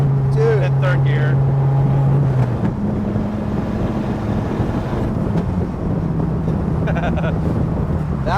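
A 1994 Dodge Viper RT/10 engine droning loudly from inside the cabin, a steady low roar with a rising tone and wind rush, heard under passengers' voices.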